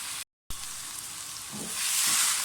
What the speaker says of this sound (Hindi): चिकन का कलर थोड़ा सा चेंज होता जा रहा है। थोड़ा सा और भूनें।